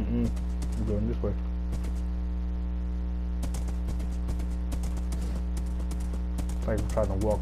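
Horse hooves clip-clop in Minecraft while riding, a rhythmic run of hoofbeats over a steady hum, with a person talking over them.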